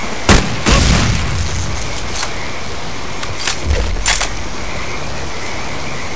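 Explosion in the Counter-Strike Zero video game: a couple of sharp booming blasts early on and another pair near the middle, set against steady game background noise, with no talk.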